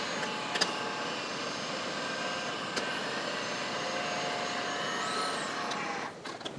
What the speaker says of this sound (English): I'm cutting this material down to size